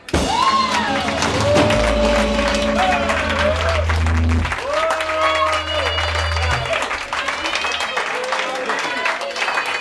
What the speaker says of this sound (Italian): E per riconoscenza un applauso in accordo prima.